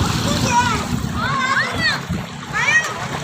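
Water splashes steadily in an open village swimming pool fed by a tubewell, with children's voices and chatter running over the sloshing throughout.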